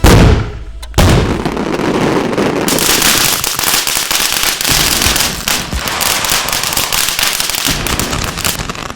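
A Lego plane blown apart by firecrackers: a loud opening bang followed by a dense, rapid crackle of popping bursts that continues steadily, close and harsh, with no talking.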